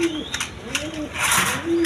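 Pigeons coo in rising and falling rolls, one call after another across the moment, close and clear with rustling in the background; the birds are glossy racing pigeons offered for sale.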